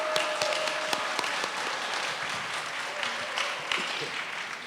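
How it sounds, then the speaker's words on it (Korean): A crowd applauds steadily and fairly loudly at a Korean reunification rally, many hands clapping together without pause. "박수로 맞이해 주십시오."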